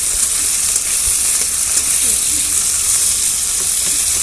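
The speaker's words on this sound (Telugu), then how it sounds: "ఇవి వేసేసుకొని మంచిగా ఫ్రై చేసుకున్నాము ఫస్ట్ ఇవి వేగిన తర్వాత ఆకులు వేసుకుందాము" Seeds frying in oil for a veldt grape (nalleru) pickle, a loud, steady close-up sizzle with faint stirring scrapes, no talking.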